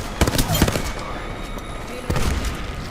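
Automatic weapon fire in the video game Apex Legends, short bursts of shots near the start and again near the end, with a steady hum of game noise between them.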